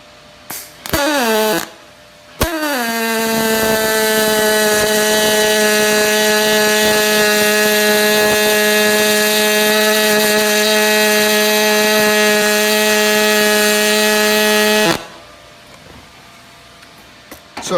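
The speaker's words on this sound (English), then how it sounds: "Literally actually see it spraying while you're putting this bead on." An HTP ProPulse200 pulsed MIG welder laying an aluminum bead, giving a steady, loud, tonal electric buzz that holds for about twelve seconds after a couple of short starts, then cuts off.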